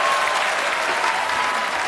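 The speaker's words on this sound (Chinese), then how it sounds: "热烈的掌声送给十二位老板" Steady, dense applause from a studio audience at a televised job-recruitment show, continuous and even throughout with no talk.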